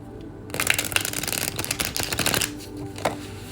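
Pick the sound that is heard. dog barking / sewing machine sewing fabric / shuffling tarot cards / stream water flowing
shuffling tarot cards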